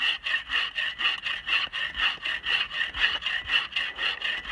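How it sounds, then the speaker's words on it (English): A hand saw cuts through standing dead wood at a winter bushcraft camp, with about ten quick, regular back-and-forth strokes rasping close by and no voices. "both saws, they work better on the pull stroke"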